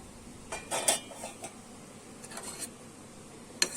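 A metal lid lifted off a pot of dark syrup-soaked sweets (kalo mishti), giving a few light clinks and a scrape, then a brief sharp clink near the end, faint and without talk.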